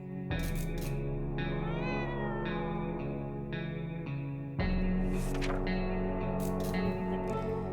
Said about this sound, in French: le chat se met à bouger violemment, à mettre des sons perçants